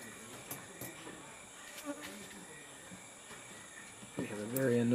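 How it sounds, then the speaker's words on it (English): Honeybees and sweat bees buzz around an outdoor field camp. Faint, intermittent buzzing passes close by over a quiet background, and a louder rise comes near the end. "We have a very annoying set of honeybees and sweat bees in this camp, so it's a little hard to sit still the skin."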